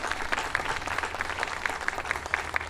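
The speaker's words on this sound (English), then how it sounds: "Let's give her a round of applause" Steady audience applause at a local civic event honoring a mayor, moderately loud continuous clapping with a few sharper individual claps standing out, no talking over it.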